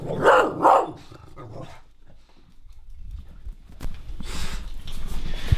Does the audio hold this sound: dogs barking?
yes